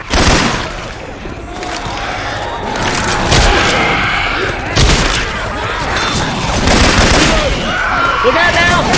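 Gunfire from Syphon Filter weapons in a round of Left 4 Dead 2: loud, dense bursts of rapid shots and booms run almost nonstop, mixed with game chaos and voices talking over the shooting.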